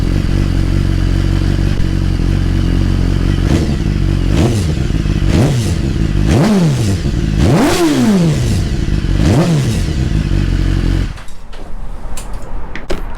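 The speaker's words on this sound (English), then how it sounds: "I'm gonna rev it even though it's cold because I don't want the exhaust to get too hot." A 2016 BMW S1000RR sport bike with an M4 slip-on exhaust, engine still cold, idles loudly and then revs sharply four or five times in quick succession. Each rev rises and falls back to idle before the engine cuts off.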